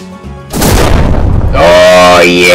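Artillery barrage explosions in a farming video game: a sudden loud booming rumble that rolls on continuously, then gives way to a tonal musical sound while the blasts keep going underneath.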